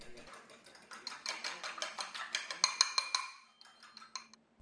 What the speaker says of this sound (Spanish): Salamos los huevos, batimos ligeramente.